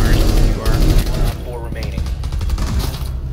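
Heavy, rapid automatic gunfire rattles throughout a close-quarters Rainbow Six Siege firefight, loud and dense, with a player talking over the shots.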